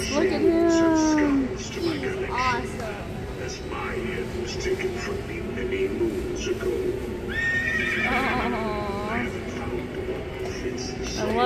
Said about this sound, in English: The horse head moves a little bit